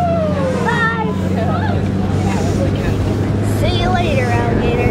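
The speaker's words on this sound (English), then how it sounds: "We're gonna take one of these cool little buggies." A dune buggy ride on the sand dunes at Silver Lake, Michigan, with a steady engine drone rumbling underneath throughout while several people chatter and call out over it.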